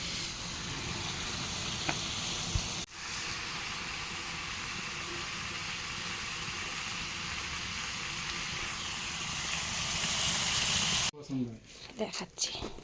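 Chicken fries in a pan over a wood fire with a loud, steady sizzle heard close by. The frying cuts off near the end, leaving a brief stretch of clattering noise.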